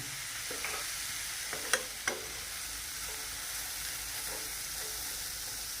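Khoa being stirred in a pan for a homemade sweet, a steady low sizzle with a few soft scraping clicks of the spoon, moderately quiet and without talk.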